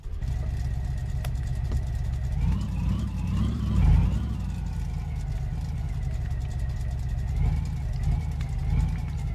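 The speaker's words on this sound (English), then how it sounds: "let me hop into this Dodge Charger. Let's quickly fire this thing up." A Dodge Charger engine starts up and settles into a steady, low idle, with a brief swell of revs early on before a continuous rumbling hum.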